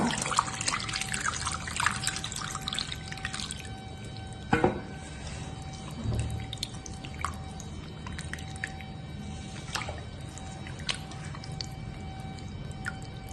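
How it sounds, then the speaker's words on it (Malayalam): Water trickles and splashes steadily as sardines are washed, with scattered drips and small clatters, close and moderately loud, with no talking. "വെള്ളം ഒഴിച്ച് കഴുകുക."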